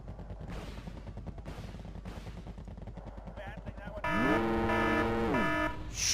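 Rapid gunfire crackles in Wargame AirLand Battle, starting as several bursts of shots under a steady engine rumble, then a loud siren-like whine rises and falls over continued firing.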